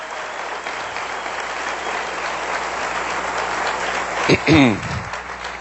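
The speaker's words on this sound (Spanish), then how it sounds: "Denle un aplauso bien fuerte al Rey bendito" Congregation applauding during a church sermon, a continuous roomful of clapping with a brief voice or shout rising over it near the end.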